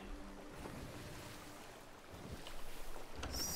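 A sailing ship at sea in Sea of Thieves, heading north against the wind, with a continuous wash of waves and wind around the hull, growing slightly louder toward the end and ending with a brief high whistle.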